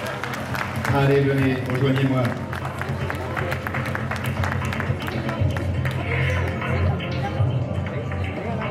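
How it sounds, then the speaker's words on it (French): At a telethon hypnosis show, audience applause and crowd noise continue while volunteers come up onto the stage, with a voice calling over the steady clapping. "vous applaudissez ces personnes, car elles me rejoignent maintenant sur scène"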